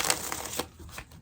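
Tarot cards being shuffled during a love reading, giving a soft papery riffle and brushing that is loudest in the first half, then thins into fainter rustles.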